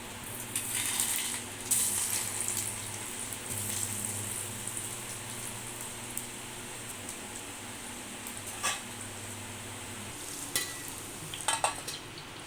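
Garlic cloves and mustard seeds sizzle in very hot oil as a tadka for a bottle gourd raita, a steady close crackle with sharp pops and spatters, a dog barking faintly in the background.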